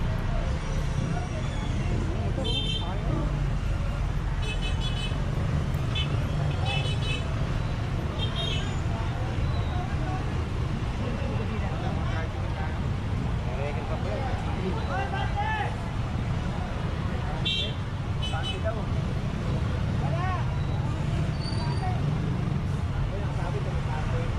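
Busy traffic on Balroas Street, a constant low rumble of engines with passing vehicles and murmuring voices blended into a dense, steady street roar.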